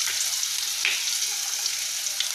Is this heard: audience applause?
no